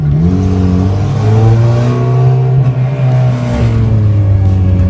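A Honda CRX drives along with a loud, droning engine heard from inside the cabin, its pitch rising and shifting steadily as it accelerates through the gears.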